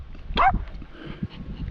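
A dog gives a single short, loud bark or yip up close, followed by quieter low rustling and shuffling for the rest of the moment.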